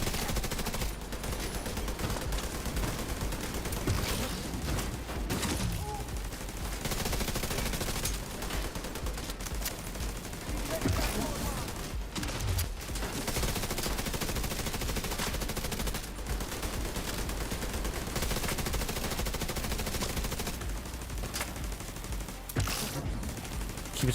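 A tank fires on the player in The Division 2 video game, with heavy, continuous gunfire and repeated loud bursts sustained for over twenty seconds in a busy, noisy firefight.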